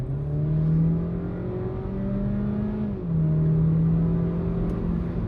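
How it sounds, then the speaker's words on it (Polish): A Cupra car engine revs under full throttle with a sustained droning whine that climbs, drops briefly, then climbs again, heard from inside the car at a moderate, steady level. "słyszymy, że ten silnik po prostu wyje i nie przyspiesza na tyle, ile by brzmiało to jego dźwięki wydobywające się spod maski"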